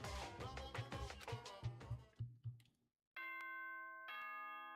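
Doorbell chime from the video game Danganronpa Trigger Happy Havoc rings out clearly after a stretch of busy music, two bright sustained tones sounding alone and ringing on to the end.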